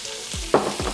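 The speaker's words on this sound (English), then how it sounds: "Get those sauteed for about 3 minutes." Onions and peppers sautéing in the pan used for pork, a steady close sizzle with a couple of sharp stirring scrapes and clacks, no talk.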